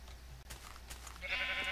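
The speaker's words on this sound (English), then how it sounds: "Where'd you come from, sheep?" Sheep bleating in the block-building video game Minecraft, a single bleat rising near the end, faint and alone over quiet game ambience.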